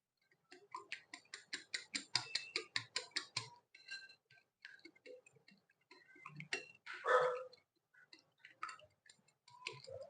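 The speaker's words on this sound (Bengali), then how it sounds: "এবার আমি ডিমটাকে ভালোভাবে ঘুলে নিচ্ছি।" An egg is beaten quickly in a bowl, making a fast run of quiet, even clicks. Scattered taps and a brief scrape follow, with nothing else in the background.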